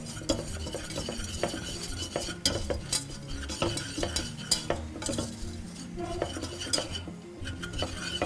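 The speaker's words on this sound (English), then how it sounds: "You can just mix that in with our melted butter." Flour is stirred into melted butter in a pan for a chicken quiche, a utensil scraping and tapping steadily against the pan with a faint sizzle underneath, close and with no talk.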